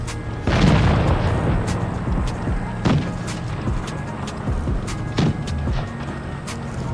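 Tank cannon fire in World of Tanks Blitz, a heavy boom followed by sharp metallic impacts and scattered cracks of shots glancing off armour, spaced irregularly over a rumbling battle backdrop.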